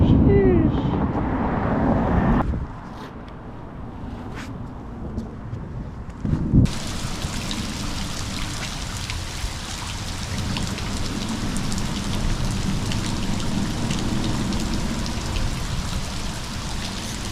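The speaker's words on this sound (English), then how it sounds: "Spot number 2, big storms, big lightning." A heavy rainstorm pours down at a canal, with dense steady hiss of rain on surfaces and low rumbling beneath. It shifts from a softer patch to a louder, fuller downpour partway through.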